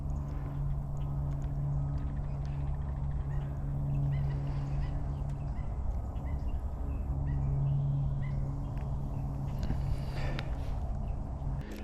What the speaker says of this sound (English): the only reason I can tell this is a fish crow is because of that noise